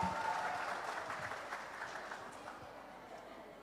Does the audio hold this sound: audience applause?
yes